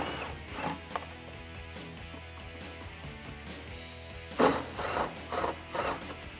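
A hand ratchet works on 10 mm fender bolts of a 2015-2017 Mustang, quiet clicking strokes in short bursts, with a few louder rasping pulls near the end over faint background hum.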